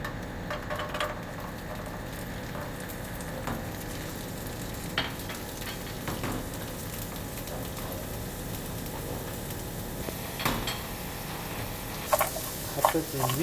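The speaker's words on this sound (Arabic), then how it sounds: "رح نحمص هلا اللوز بشوية زيت، والزبيب نفس الشي." Almonds and raisins toast in a little oil in a pan, giving a continuous close sizzle with stirring scrapes and occasional pops, while a person talks over it.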